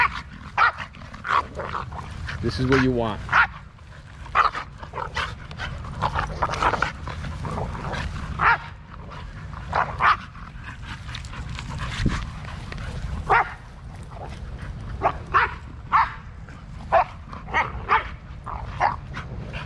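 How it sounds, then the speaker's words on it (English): Several excited dogs bark, yip and whimper in quick bursts, close by and fairly loud outdoors, while someone talks over them. "these dogs are going nuts"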